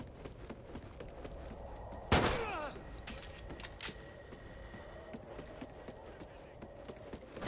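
A P226 pistol shot in Call of Duty Ghosts cracks once sharply in the middle of busy game ambience, with a brief tail and scattered background activity.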